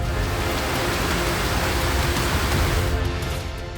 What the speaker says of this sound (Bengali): ঝড় বৃষ্টির সঙ্গে পাগলা হাওয়া